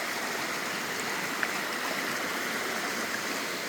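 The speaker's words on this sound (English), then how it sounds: "The water is up from all the rain, man. It's kicking." A rain-swollen stream rushes past a gravel bar, a dense, steady, close roar of flowing water with no break and no voices.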